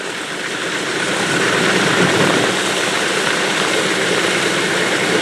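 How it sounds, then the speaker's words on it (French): A DC-3 piston-engined airliner's engine starting up, a loud, steady broadband roar that swells in the first half-second and then holds as a constant close rumble with no voices. "il y avait encore un certain nombre de pays qui utilisaient cette DC-3 qui démarre, bruit et fumée"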